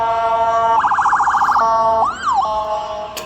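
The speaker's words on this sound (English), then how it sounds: "Got the ambulance coming." An ambulance siren blares nearby, a rapid yelping warble followed by a single rising and falling wail, loud and close.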